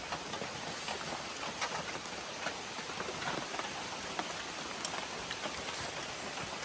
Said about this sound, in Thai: ฝนมันตกลงมาแล้วไง